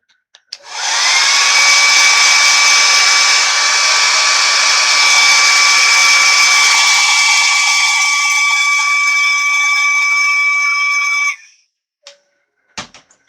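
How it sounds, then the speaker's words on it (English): A hair dryer heats paint on a carved wood bolo tie, switching on with a click and running as a loud, steady high whine and rush for about ten seconds before cutting off, followed by a few light knocks. "Hair dryer again for a few seconds."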